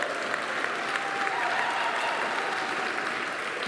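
Fathers in a church congregation applaud themselves on Father's Day, a continuous, even round of many hands clapping at moderate distance, sustained without a break.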